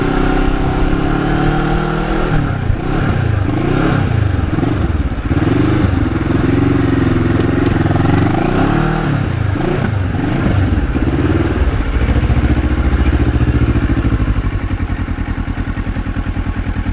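A 2009 Kawasaki Ninja EX650R motorcycle engine runs loudly and steadily up close, its pitch rising and falling with repeated revs before settling into a rough idle.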